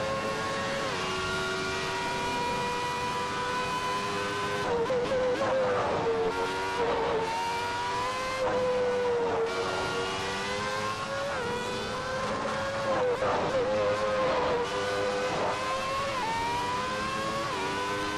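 A Williams FW14 Formula One car in Assetto Corsa screams at high revs, its engine pitch climbing and dropping sharply through repeated gear shifts and braking, loud and continuous with no talking.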